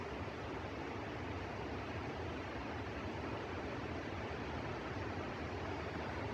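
A headwall waterfall in the Sierra Nevada backcountry, a steady broadband roar of falling water that holds constant and fairly distant throughout, with no voices.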